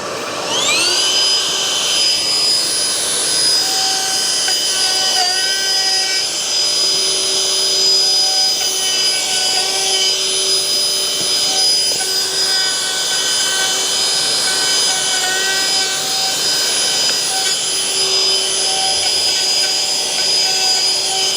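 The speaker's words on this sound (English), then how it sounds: "this particular router has the quick release push bit on, so you can put that on top with your hoover" A router cuts a kitchen worktop with a hoover attached for dust extraction, giving a loud continuous high whine with steady motor tones that holds throughout.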